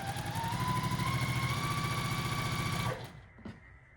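A sewing machine stitching quilt block pieces hums in a steady, rapid mechanical rhythm for about three seconds, then stops, followed by a soft handling bump.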